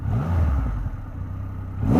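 A Triumph Rocket 3 R motorcycle with a 2500cc engine rumbles low and close, revving briefly before settling, with no talk over it.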